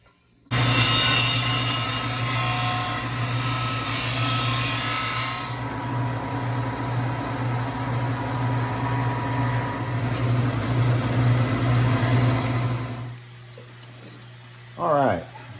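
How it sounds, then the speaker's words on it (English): A power sander runs continuously on a vintage Ford Bronco part, making a loud, steady, buzzing machine drone with a strong hum. It starts abruptly, lasts about twelve seconds and then cuts off, leaving faint room noise. "just got through putting it on the sander"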